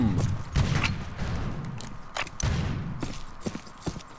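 Rifle shots from a Sharps rifle in the game Fistful of Frags, several sharp reports spaced a second or so apart amid rumbling background game noise.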